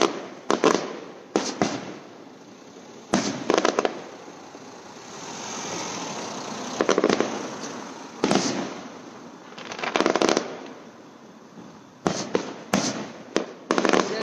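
Fourth of July fireworks in Arlington, Texas, loud sharp bursts and crackling explosions in clusters with quieter gaps, over a low engine-like rumble in between.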